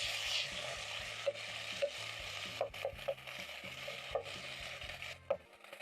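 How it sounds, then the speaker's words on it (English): Minced meat frying in a pan for Cajun dirty rice, a soft sizzle broken by repeated scraping and tapping of a spatula as the meat is broken apart. "We're breaking down the meat using a spatula because we don't want the meat to be lumpy"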